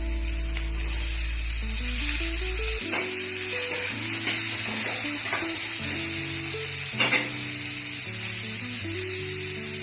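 Tomatoes fry in a pan for potato curry, giving a steady, close sizzle that runs throughout, with occasional stirring and a low hum underneath.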